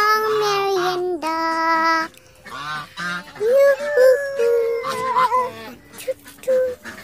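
Muscovy ducks crowd for a feed of malunggay leaves, giving loud, repeated honking calls in close, overlapping bursts that continue throughout.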